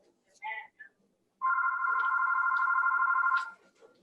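A mobile phone goes off during a town selectboard meeting, giving a single sustained electronic ringtone of about two seconds in a quiet hall, just after a brief murmur of voices.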